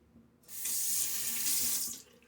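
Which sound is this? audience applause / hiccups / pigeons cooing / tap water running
tap water running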